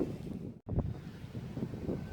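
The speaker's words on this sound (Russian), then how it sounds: "Холодно сегодня, ветрено." Strong, cold wind in a Russian village buffets the microphone with a continuous low rumble, briefly dropping out for a moment before gusting on.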